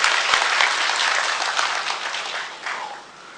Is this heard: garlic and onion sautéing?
no